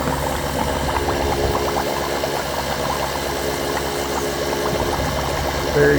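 Liquid forced at high pressure through a clogged Epson XP600 printhead on a water-based DTF printer, a steady rushing, gurgling flow that runs continuously and close up with a faint mechanical hum beneath.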